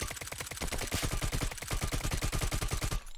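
Rapid automatic fire from an MH91 rifle on a shooting range in the game Lost Light, a steady fast burst of loud shots lasting about three seconds before stopping abruptly.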